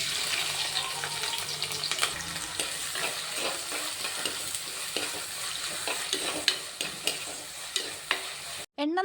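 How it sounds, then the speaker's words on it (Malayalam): Crushed onion, ginger and green chilli fry in hot oil with a bright, continuous close-up sizzle, punctuated by repeated stirring scrapes and taps, ending in a sharp clunk. "എണ്ണ നല്ല രീതിയിലൊന്ന് ചൂടായി കഴിഞ്ഞപ്പോഴേക്കും ചതച്ച് വെച്ച ഉള്ളിയും ഇഞ്ചിയും പച്ചമുളകും ചേർത്ത് കൊടുത്തിട്ടുണ്ട്."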